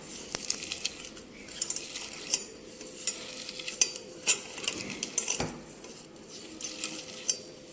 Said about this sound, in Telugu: ఇవి కొంచెం మ్యాష్ చేసుకొని